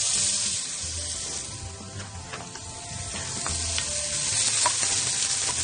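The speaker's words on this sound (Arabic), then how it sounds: "أول شيء رح بلش بدي أقلي شوي من البصل الجوانح" Onions frying in a pan, a steady close sizzle with occasional stirring taps and no talking.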